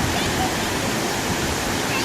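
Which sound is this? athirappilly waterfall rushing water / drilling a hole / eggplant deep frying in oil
athirappilly waterfall rushing water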